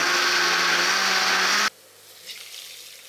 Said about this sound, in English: I like to give this a second pass in the blender to get all that remaining milk.